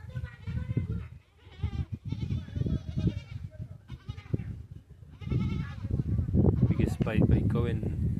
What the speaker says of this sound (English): that's a lot of goats